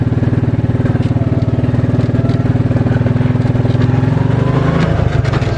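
A 2001 Suzuki King Quad 300 ATV engine running in a low gear, a loud, close, steady thumping putter with an even rapid pulse that shifts slightly near the end, with no talk.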